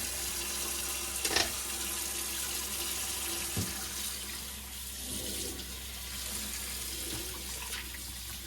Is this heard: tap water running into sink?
yes